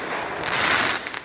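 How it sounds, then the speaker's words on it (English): A small firework cake with narrow tubes goes off in the Fireworks Mania game, giving a dense, loud crackling burst that holds steady for about a second before a few scattered pops trail off. "these are cool, but these are definitely a bit boring and definitely not big enough"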